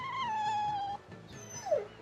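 A dog in the video game Tales of Berseria gives a drawn-out whine that slides downward, then after a short pause a second sharper whimper, close and clear.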